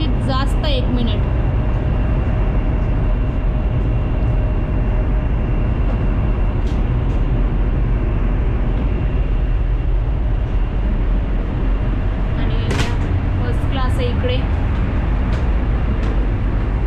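A Chinese 350 km/h bullet train at a station platform in a mountainous region of China gives off a loud, steady broadband rumble that runs throughout, broken by a few brief high squeaks and clicks.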